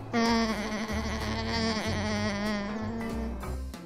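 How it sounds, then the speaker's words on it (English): An alpaca gives a sustained, whining hum-like call, fairly loud and close, wavering in pitch over a rhythmic musical backing. "Alpaca."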